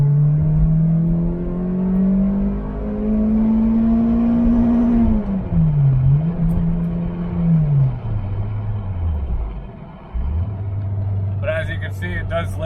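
A Toyota Matrix XRS engine with a check engine light revs hard, its pitch climbing steadily then dropping and surging again as it bounces off the rev limiter, loud and close, with a brief voice near the end.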